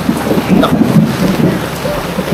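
Steady, loud rain pours down in a muddy outdoor setting, with rumbling thunder mixed in as a continuous stormy wash throughout.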